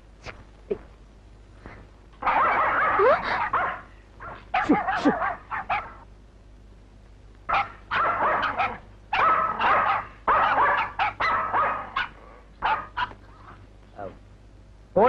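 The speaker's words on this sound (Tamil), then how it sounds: "காணாம போன அத்தனை நாயையும் கூட்டிட்டு வந்துட்டேன்" A pack of dogs barks repeatedly in loud, overlapping bursts with yips and whimpers, close by and filling most of the scene in clustered volleys separated by brief pauses.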